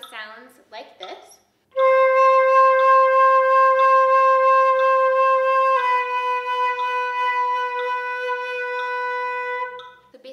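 Flute held on a long vibrato tone, played near and alone after a brief spoken lead-in, the note steady at first then shifting slightly lower and fading toward the end as breath runs out.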